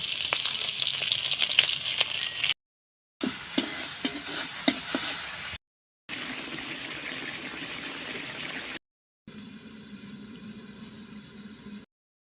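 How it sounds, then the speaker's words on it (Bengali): Large pieces of fish frying in oil outdoors over a clay stove at night, a continuous bright sizzle with occasional stirring clicks, heard in several separate stretches broken by short silent gaps. "খোলা আকাশের নিচে বসে মাছ ভাজি করছি"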